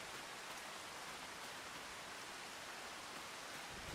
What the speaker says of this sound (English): Yeah, now we hear the rain a little bit.